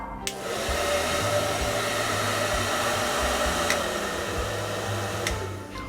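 A person imitates a hair dryer blowing steadily, with a continuous whooshing roar and motor hum from start to finish, fairly close and unbroken.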